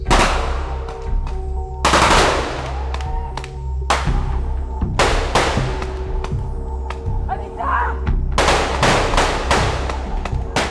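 Loud gunfire on a film set for a Guyane series action scene, with repeated sharp bursts and single shots cracking in irregular clusters over several seconds, close and harsh, echoing with low thumps.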